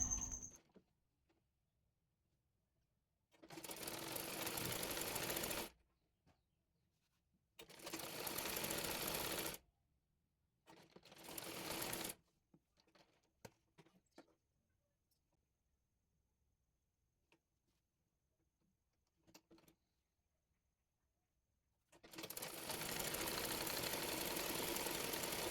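A sewing machine stitches fabric for a baby frock in four bursts of rapid, even mechanical whirring, each a few seconds long and separated by quiet pauses with faint clicks, close and clear.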